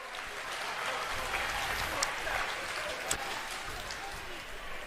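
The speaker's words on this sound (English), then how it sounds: "You already gave him a little round of applause. How about one more time?" Crowd at a USA BMX national race clapping for a rider, fairly faint and diffuse applause spread across the whole stretch, with a few sharper claps standing out and a voice over the crowd.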